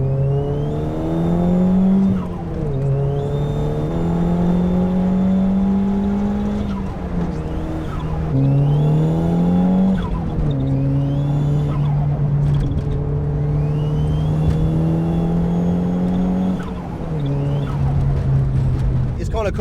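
A Nissan Pulsar GTI-R with a cable throttle drives along, its engine droning steadily and rising in pitch through the gears, dropping briefly at each shift. The engine noise continues loud and close throughout, with no other sound layered over it.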